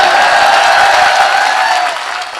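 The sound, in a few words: audience applause at poetry event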